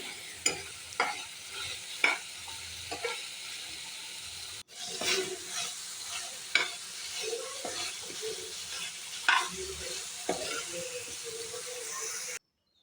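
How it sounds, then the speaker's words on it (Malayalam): Scraping stirring and sizzling as chicken fries in hot oil in a kadai, with intermittent clatter of a spoon against the pan, close and steady, no voices. "ആദ്യം നമ്മൾ ചിക്കൻ ഒന്ന് നല്ല ഫ്രൈ ചെയ്തെടുക്കാം"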